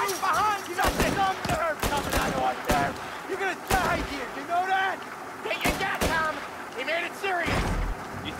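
Gunshots in the 1930s crime game Mafia Definitive Edition, a string of sharp, loud cracks spaced irregularly across the clip, mixed with game noise and someone talking over it.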